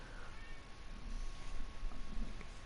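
Faint meowing from a female house cat inside a closed room, a few soft, thin calls scattered through low background noise and barely rising above it, with no voices.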